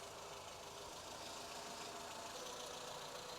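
A 1980 Volvo 345 engine idles steadily and not quite warmed up, a constant mid-pitched rumble with faint knocking texture, close and alone.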